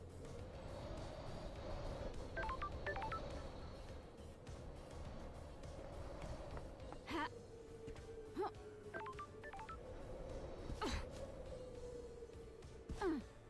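Telephone dialing tones sound in short bursts of several beeps at a time, each burst a few seconds apart, over a low steady background hum and a faint sustained tone.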